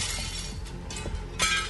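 Glass shattering as a short sound effect on a gaming podcast, a bright crash followed by scattered tinkling shards, fairly loud and alone with no talk.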